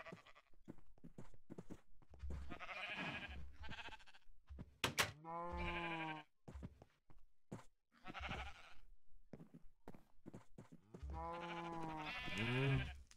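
Sheep bleating in the game Minecraft, several separate bleats spaced across the stretch, clear and fairly close, with no talk over them.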